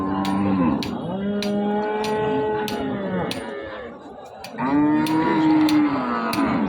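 Cattle moo loudly at a border-area livestock market, with two long drawn-out calls close by and a faint murmur of the crowd behind.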